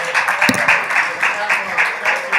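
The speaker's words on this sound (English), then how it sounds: "Let's clap her up." Audience applause welcoming a spoken word performer at the NAN Youth and College Huddle Forum in New York City: a steady wash of clapping across the whole span, with crowd voices mixed in.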